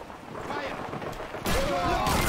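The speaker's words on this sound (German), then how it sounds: "Ja, knall sie doch ab" Rapid gunfire from the Call of Duty 2 World War II shooter game, a dense burst of close shots that grows louder and fuller partway through, with someone talking over it.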